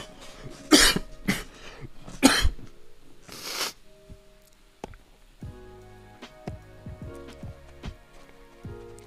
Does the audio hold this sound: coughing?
yes